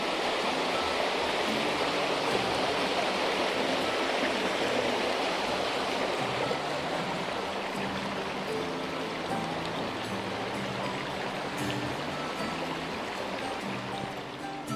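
Stream water flows steadily over a weir outdoors, a dense, even rushing wash that stays loud and unbroken throughout with no voices.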